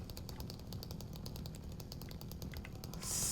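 A chainsaw from Silent Hill 2 runs with a steady, rough, rattling drone and dense broadband grit, ending in a louder burst of harsh hissing noise.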